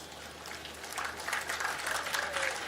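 An audience applauds at a Tamil poetry talk, with steady, fairly distant clapping that swells slightly partway through and continues throughout.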